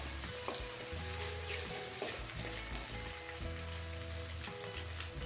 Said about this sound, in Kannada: ಇವಿಷ್ಟನ್ನ ಚೆನ್ನಾಗಿ ಹುರ್ಕೋಬೇಕು.